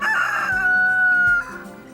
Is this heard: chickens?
yes